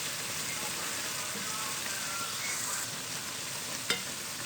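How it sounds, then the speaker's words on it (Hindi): Semolina halwa frying in oil is stirred steadily, giving a continuous soft hiss and sizzle with faint scraping, close but quiet, and a single sharp clink near the end. "अब इसको हम हिलाते जाएंगे, टूटेंगे नहीं, ये दानेदार हमारा बनता जाएगा।"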